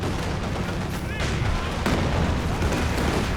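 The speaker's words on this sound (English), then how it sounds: "Incendiary artillery coming in." An incendiary artillery barrage in Company of Heroes 2, with heavy booms and crackling fire-like bursts rolling over a dense battle din, loud and continuous.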